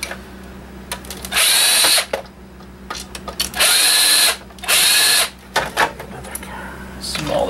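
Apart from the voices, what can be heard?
power drill removing hard drive screws from game console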